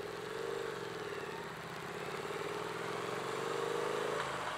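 Steady engine drone of a 2017 Triumph Street Twin motorcycle while riding, a continuous mid-pitched hum with wind noise and small throttle variations, fairly faint.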